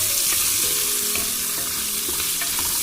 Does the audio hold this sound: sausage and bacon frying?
yes